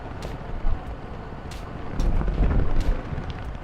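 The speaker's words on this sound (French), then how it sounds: "le vent est toujours là mais c'est plutôt agréable" Wind buffets the microphone during a long road-cycling marathon in the Ardèche mountains, a steady low rumble with stronger gusts near the middle.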